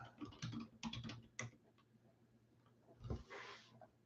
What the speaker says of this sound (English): I'm typing the teams that are left.